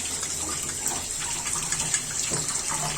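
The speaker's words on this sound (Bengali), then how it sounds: "আমি একটু ধুয়ে নিচ্ছি আমার ময়লা থালাগুলো" Dirty plates washed under a running kitchen tap while fish cooks, a steady close gush of water with faint clinks and scrubbing mixed in, no talking.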